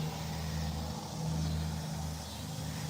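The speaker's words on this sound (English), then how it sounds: "Large truck going by." A large truck passes on a nearby road as a steady low engine rumble and road roar that fills the whole stretch, fairly distant and constant, with no voices.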